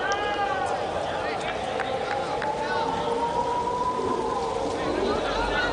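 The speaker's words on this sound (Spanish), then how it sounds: "Se vienen hasta las sirenas, de los coches de la calle, pasando por la calle." Street emergency-vehicle sirens wail with rising and falling tones beneath a steady stadium crowd roar and a commentator talking during a 1987 European Cup football broadcast between Real Madrid and Napoli.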